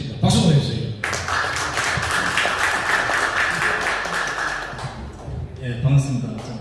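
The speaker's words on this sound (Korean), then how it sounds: "박수 보내주세요" Loud audience applause fills a lecture hall, a dense continuous wash of clapping that rises abruptly and fades after several seconds, framed by someone speaking before and after it.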